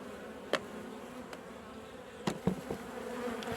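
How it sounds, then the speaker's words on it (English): Faint, steady buzzing of many honey bees around a hive in October, with a few soft knocks and clicks nearby. "As you can see, we've got loads of bees"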